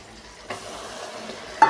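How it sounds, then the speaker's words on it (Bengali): Fish paste frying in a wok and being stirred, a soft steady sizzle that swells after a brief quiet start and ends with a sharper metallic scrape of the spatula. "মাছটা এবার দেবো কড়াইতে"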